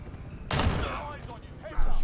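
A single heavy shotgun blast from the R9-0 in the Modern Warfare video game, loud and close, with a broadband crack fading into a short tail. A second burst follows near the end, with game noise and voices underneath.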